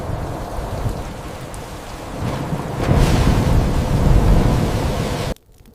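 A heavy storm at night outside a house: roaring wind and pouring rain fill the whole stretch loudly, with a swelling rumble of thunder midway before the sound cuts off abruptly.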